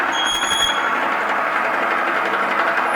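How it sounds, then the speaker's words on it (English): An old motor on a Hamilton 150-gallon double-motion scrape agitated kettle hums and whirs steadily with a rough mechanical buzz and a faint high whine, running without a break. "The noise you're hearing is coming from the motor."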